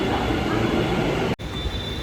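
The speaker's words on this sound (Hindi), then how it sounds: "अभी मैं रानीप में उतर गया हूँ, अभी मेट्रो चली गई।" An Ahmedabad metro train pulls away from Ranip station with a steady, loud rumble of rolling noise that drops out for a moment midway, then resumes. No voices are heard.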